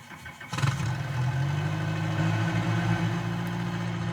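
A piston-engine Bell 47 helicopter cranks over and catches in a flight simulator, a brief starter whir giving way after half a second to a steady, loud, low throbbing idle that holds alone to the end.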